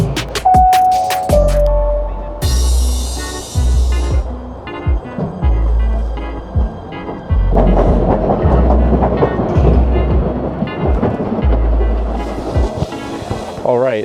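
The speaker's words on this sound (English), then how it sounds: "This is the train to Newark Penn Station." A PATH train riding toward Newark Penn Station rumbles and rattles along the track, with rhythmic clanks, a rising whine and a loud, close, continuous roar, broken at times by chimes and an announcement voice.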